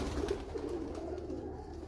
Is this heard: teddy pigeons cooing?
yes